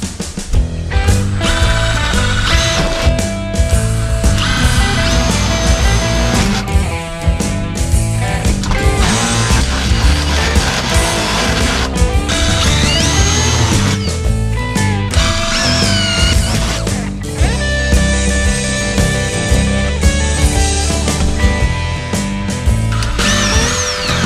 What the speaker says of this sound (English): Might help if I drilled a pilot hole.